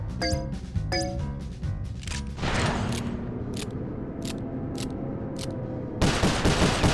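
Rapid gunfire in the PS3 game Sly Cooper: Thieves in Time, a loud burst of repeated shots followed by spaced single cracks and then another dense volley at the end, set over continuous game noise.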